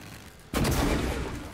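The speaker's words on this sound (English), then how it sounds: "Oh, there goes the firework." Fireworks in the video game Prey go off with a sudden loud burst that turns into a sustained crackling roar, heard close with no speech.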